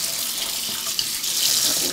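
Tap water runs over chickpeas being rinsed in a sink, a steady bright hiss of splashing flow that holds for the whole stretch and swells slightly toward the end, with no talking.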